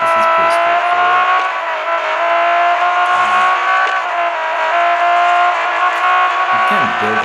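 A race car in the Real Racing 3 game accelerates hard, its engine a loud, steady rising drone that holds throughout, with brief low bursts underneath.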